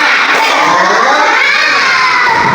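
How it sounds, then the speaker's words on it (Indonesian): Classroom of children shouting together in a spirit clapping chant, a loud, dense wash of young voices that continues steadily throughout. "Tepuk semangat."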